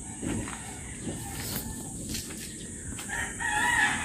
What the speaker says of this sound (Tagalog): Kini siya po nga manok guys.